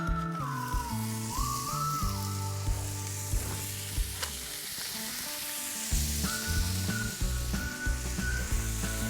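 Burger patties sizzle on a Blackstone flat-top griddle with a little oil, a constant bright hiss running beneath tuneful background music.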